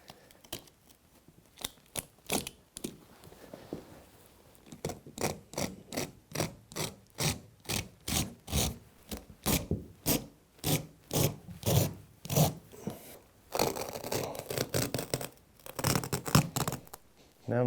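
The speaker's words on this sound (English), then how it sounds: "I'm going to use a utility knife with a hooked blade to cut this carpet right on this line" A utility knife with a hooked blade slices through carpet along a marked line, giving a steady series of close, rhythmic rasping pulls that start faintly and grow louder and more regular.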